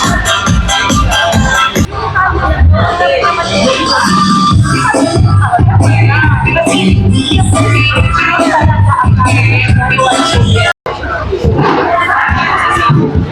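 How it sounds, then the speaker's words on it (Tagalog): Loud, dense Zumba dance music thumps along beneath a bustling crowd, voices shouting and chattering throughout a busy Zumba class in Batangas, Philippines, with a brief dropout near the end. "Malamang naririnig niyo yung background ko, no? Yun, guys, yung tunog ng Zumba."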